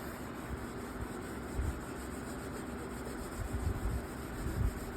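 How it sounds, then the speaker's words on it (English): Steady rasping sandpaper strokes on a lacquered wooden guitar-kit fretboard, close and continuous with slight rhythmic swells as the surface is flattened. "I'm just flattening the surface, making sure those grooves and those lines are coming out."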